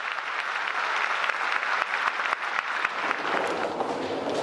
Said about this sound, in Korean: 신금을 울리는 소리에 관객들은 뜨거운 박수로 화답을 합니다.